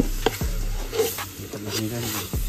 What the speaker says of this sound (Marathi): चिकन टाका तो